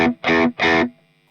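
Three electric guitar chords through a Bluesbreaker-style overdrive pedal ring out in quick succession, warm and overdriven, then fade to a faint hum.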